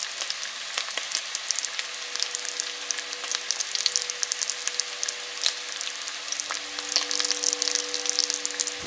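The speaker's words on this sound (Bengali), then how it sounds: "এবার কেটে রাখা কচুগুলো আমি কড়াইয়ের মধ্যে দিয়ে দেব এবং 5 থেকে 7 মিনিট নাড়াচাড়া করে কচুটা আমি ভেজে যাব।" Cut taro pieces frying in a wok, a steady broadband sizzle with scattered crackles and pops, fairly close and continuous throughout with no voices.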